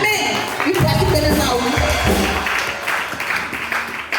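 A church congregation claps and acclaims the Lord together, with loud, full applause and voices mixing into a dense, sustained roar that swells then eases slightly.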